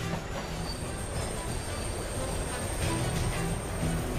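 Heavy rolling rumble of a train inside a large train repair shop, with metallic wheel squeals, steady and loud throughout, with no voices.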